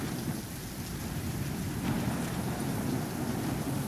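A Call of Duty Black Ops 3 storm in Singapore, with steady heavy rain and low rumbling thunder forming a dense, continuous roar at moderate volume and no voices.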